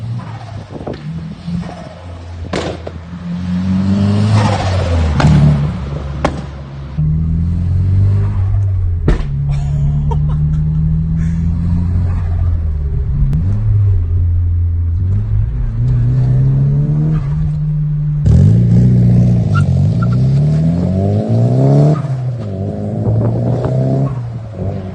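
Nissan Silvia S15 turbo engine with stock intake, pod filter and blocked-off blow-off valve, revving repeatedly with a fast turbo flutter on each lift-off, moderately loud and close, no talking.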